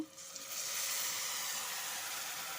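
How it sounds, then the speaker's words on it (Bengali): Crab with potatoes and vegetables sautéing in spices (Kashmiri chilli powder, ginger and green chilli paste) gives off a loud, steady hiss that swells after a brief start and holds evenly, with no voices. "আমি সমস্ত কাঁকড়াটাকে সবজিগুলোর সাথে ভালো মতো কষে নেব"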